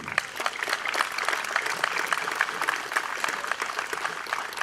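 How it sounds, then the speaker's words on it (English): Brisk, steady clapping from an audience at a Memorial Day Garden of Honor ceremony, honoring the singers and the bugler, with even density from start to finish. "Just another round of applause for our singers, Jacqueline Jordan, and our bugler, Ryan Berry, this morning."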